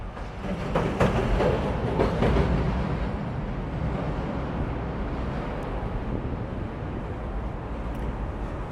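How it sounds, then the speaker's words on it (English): Elevated Chicago L train rumbling overhead on Jackson at the end of Route 66, a steady broadband roar heard from street level below, with a few louder clatters early on and wind buffeting the microphone throughout. "as we cross under the L with a train overhead"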